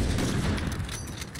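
Rapid bursts of gunfire from a video game, dense and loud, with shots overlapping in a sustained volley that eases slightly toward the end.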